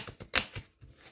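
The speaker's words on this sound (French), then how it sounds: "pendant que je mélange les cartes" A deck of tarot cards is shuffled by hand. A few short, crisp snaps and riffles come close together, with one sharper slap in the middle of the brief burst.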